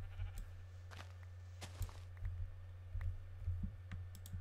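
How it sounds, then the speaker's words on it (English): Sheep bleat faintly in a modded Minecraft-style game, scattered short calls over a low steady hum, with occasional keyboard and mouse clicks in the background. "I just gotta find where that other sheep is at."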